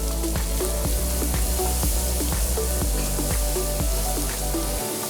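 Onion, parsley, spring onion and other vegetables added to a hot pan with meat fat while making ossobuco give a steady, close sizzle and crackle, with light clinks and stirring taps scattered on top.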